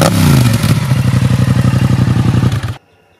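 Yamaha MT-07 with an aftermarket exhaust can, a loud close engine blipping and revving hard, then a rapid pulsing throb before it cuts off abruptly.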